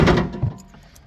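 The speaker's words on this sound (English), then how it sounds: "I'm gonna shut the door so you don't hear the ding ding." A single solid thunk of a car door shutting on a Foxbody Mustang, close and fairly loud at the start, then fading to quiet.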